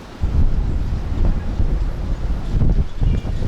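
On a hilltop, strong wind batters the microphone in a continuous low, roaring rumble with uneven gusts, loud and close throughout, with no voices.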